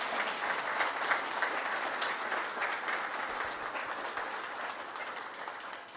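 Audience at a governor's announcement cheering and applauding a new Game and Fish Commission appointee, steady, fairly distant clapping that holds evenly before fading slightly at the end.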